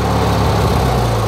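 A tractor engine runs at a steady idle close by, a continuous low, rumbling drone with a faint vibration and no voices.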